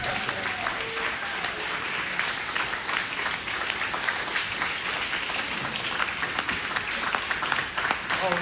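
A crowd applauds steadily and fairly loudly at a Caldwell County Democratic Party town hall for Kendall Scudder, dense clapping sustained throughout with no break.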